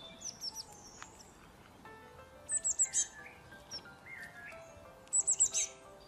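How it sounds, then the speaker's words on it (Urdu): Small birds chirp and sing in the morning air, with quick high tweeting phrases arriving in short bursts and several clear trilled calls standing out over a quiet background. No one speaks. "پرندوں کی بولیاں آپ کو تازہ دم کر دیں گی۔"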